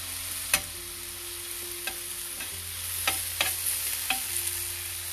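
Butter sizzles under a pudla sandwich on a hot street-style pan, a steady close hiss broken by several sharp spatula taps and scrapes.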